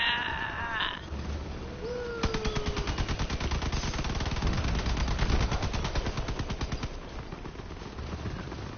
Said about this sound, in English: as you get different guns on your truck, you have different buttons to fire with